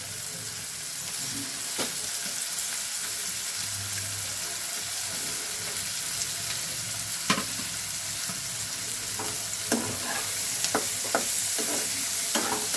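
Chopped green chilli, tomato and carrot are stirred in a frying pan, a continuous soft sizzle broken by scattered scraping clicks of the spoon against the pan, growing busier toward the end.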